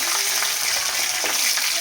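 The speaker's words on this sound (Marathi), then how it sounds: "कढीपत्ता आहे फोडणीमध्ये छान तळून द्यायचा." Curry leaves fry in hot tempering oil for a methi and moong dal dish, making a loud, continuous crackling sizzle with faint stirring.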